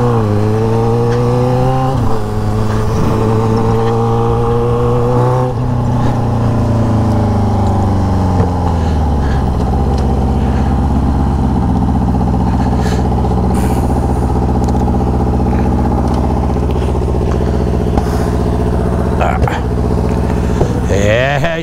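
A Yamaha XJ6 motorcycle with a 304 stainless steel exhaust revs hard nearby, pitch climbing through several sharp rises and drops before settling into a loud throaty idle with occasional blips, a voice shouting briefly over it.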